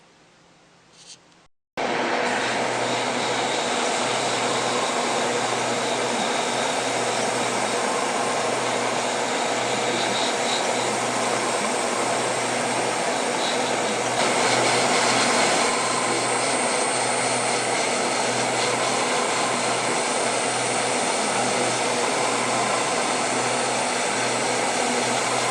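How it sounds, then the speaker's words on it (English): An airbrush sprays paint onto an HGUC Gouf model kit, a steady loud airy hiss starting abruptly after a brief quiet moment and running continuously without pause. "now that all of the airbrushing is done"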